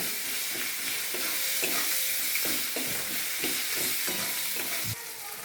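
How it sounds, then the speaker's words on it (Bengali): Long-cut potatoes frying in oil with browned onion and panch phoron, a dense continuous sizzle broken by regular scraping strokes of a spatula, close and loud, with no talking. "এবার আমি এই লম্বা করে কেটে রাখা আলুগুলো এর মধ্যে দেব দিয়ে একটু ভাজা ভাজা করবো"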